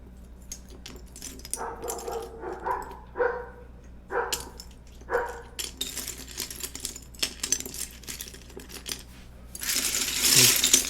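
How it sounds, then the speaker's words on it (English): Plastic keycaps on an LZ CP keyboard with 62g Vint Black switches clack and rattle in quick bursts, preceded by several barks from a dog in the background and ending in a dense, hissy flurry of clatter. "Keycap ASMR right here."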